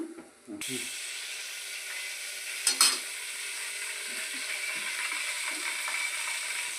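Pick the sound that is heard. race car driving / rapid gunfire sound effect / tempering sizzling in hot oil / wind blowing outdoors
tempering sizzling in hot oil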